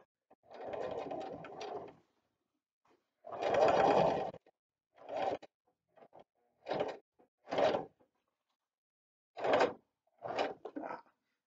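A sewing machine stitches a hem on jeans in about eight separate bursts, some long and some brief, with silent pauses between them, close and clear.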